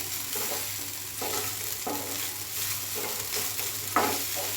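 Grated coconut sautéing in a pan on low flame for South Indian coconut rice, a soft steady sizzle with periodic scraping strokes of a spoon, close and fairly quiet.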